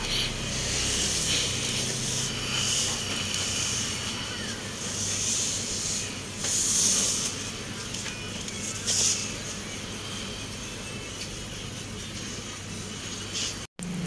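Scissors cutting through fabric for trouser pattern pieces make repeated soft swishing, snipping bursts at close range, spread across the clip over a steady low hum.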